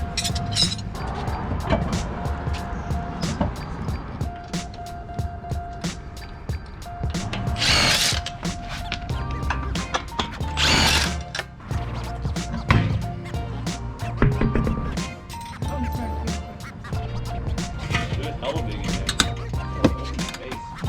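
A power tool spins the adjuster on a TEIN front coilover being fitted to a Lexus IS F, making loud, repeated ratcheting bursts and whirring mechanical clatter, with voices intermittently underneath.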